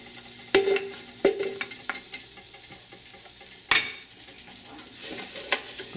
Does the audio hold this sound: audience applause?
no